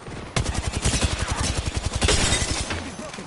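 Rapid automatic gunfire in the Apex Legends Arenas mode, a fast, loud run of shots firing almost continuously for about three seconds before tapering off.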